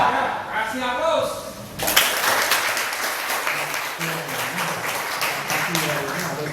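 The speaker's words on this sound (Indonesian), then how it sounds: "Kasih aplaus." A classroom audience at a mechanical engineering lesson breaks into applause after a brief spoken exchange, steady clapping filling the room for several seconds with voices mixed in.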